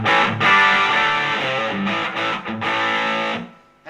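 An electric guitar through a Peavey Delta Blues 1x15 combo amp on its distortion channel, set to a sharp, scooped metal tone, plays loud sustained distorted chords and notes that ring out for several seconds before cutting off.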